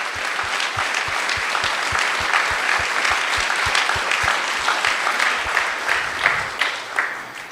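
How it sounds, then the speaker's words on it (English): Steady applause from an audience at a European Youth Capital award ceremony, dense and sustained clapping throughout with a brief swell near the end. "Please applause to great family and a great team."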